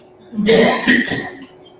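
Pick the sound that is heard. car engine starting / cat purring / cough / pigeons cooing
cough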